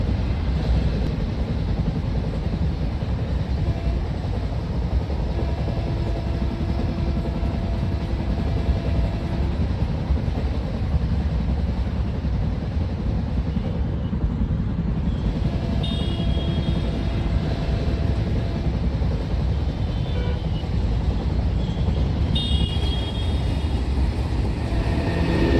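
A train in an Indian train simulator game, the Amritsar–Howrah Mail, rolls past with a continuous broadband rumble and faint whistle-like tones, steady and moderately loud for the whole stretch, with no speech.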